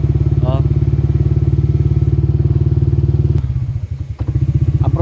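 A motorcycle engine, just repaired but prone to stalling and lacking a steady idle, putters loud and close in a fast, even pulse, then stumbles and sputters before catching again, while a voice talks over it.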